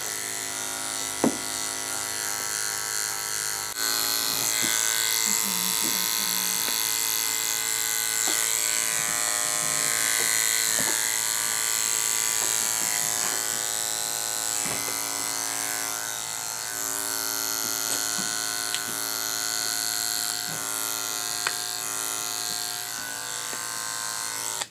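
Electric hair clippers buzzing steadily and loudly up close during a barbershop haircut, a continuous motor drone that shifts slightly as the blades move through hair, with occasional small knocks.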